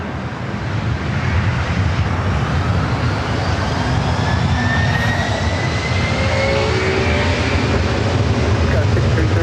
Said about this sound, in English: the flight heading to Minneapolis,